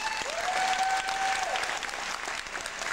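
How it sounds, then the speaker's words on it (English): Brief burst of audience applause after a thank-you at a Kaos Theory performance, crowd clapping steady throughout, with a sustained tone sliding in faintly beneath it early on. "Round of applause to Saeed."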